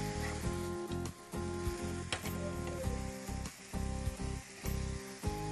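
Noodles and vegetables stir-frying with sauce in a pan, a steady sizzle broken by rhythmic tossing and scraping over a humming background tone.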